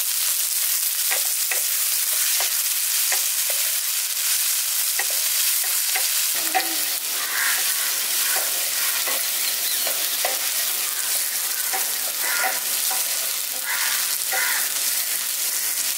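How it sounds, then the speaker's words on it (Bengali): Onion and tomato fry together with a loud, close, continuous sizzle, with repeated clicks and scrapes of a spatula stirring through it and no voices. "এবার পেঁয়াজ আর টমেটোটাকে একসঙ্গে ভেজে নিচ্ছি।"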